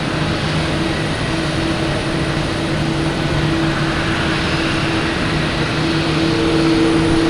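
An Aer Lingus airliner arriving from Dublin passes at Boston Logan Airport on a foggy evening, its engines giving a steady, even drone of moderate loudness.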